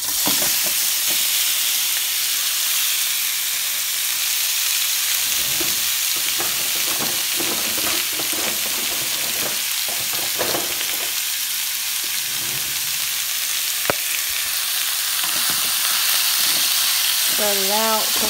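Beef frying in a pan for a stew, a steady loud sizzle running throughout with scattered crackles and occasional scraping as the meat is spread out and cooks.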